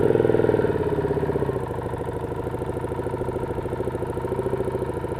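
A motorcycle engine idling close by with a steady, loping rumble, its pitch dropping slightly after the first second and then holding even.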